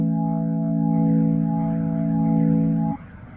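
Yamaha YC stage keyboard organ voice with its simulated background noise switched on and turned up: a steady sustained organ chord with a faint hiss beneath, held for about three seconds before cutting off, leaving only the quiet noise.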